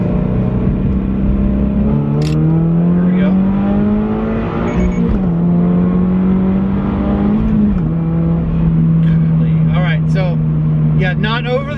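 A 2025 Subaru BRZ tS with a Corsa exhaust pulls through a right turn on a light throttle stab, its steady engine drone rising gradually in pitch, near and moderately loud beneath continuous talk from inside the cabin.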